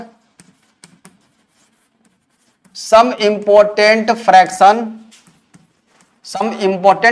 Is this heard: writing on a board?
yes